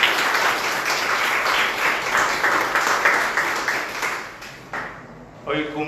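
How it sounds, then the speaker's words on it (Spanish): A church congregation gives a loud round of applause during a service, a thick sustained clatter of many hands that fades near the end, where a voice cuts in briefly. "un fuerte aplauso, por favor"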